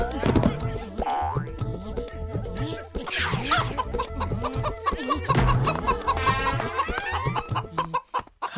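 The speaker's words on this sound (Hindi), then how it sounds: "मोटू, तुम एक मुर्गी भी नहीं पकड़ सकते" Cartoonish chicken clucks and squawks amid a busy comic chase scene in the Hindi cartoon Motu Patlu, with boings and chase sounds mixed in, loud and continuous throughout.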